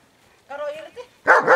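A dog playing fetch with a ball lets out a brief whiny yelp, then two sharp, loud barks close up.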